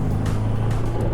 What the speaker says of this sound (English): You can hear that engine is a little bit raucous, but it sounds actually more like a petrol V6 than a diesel.